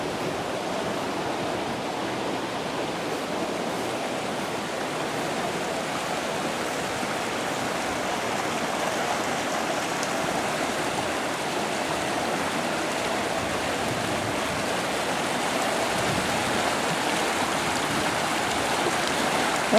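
River water pours steadily over a waterfall after high flow, a continuous broad rushing roar that holds constant and fairly close with no breaks and no talk.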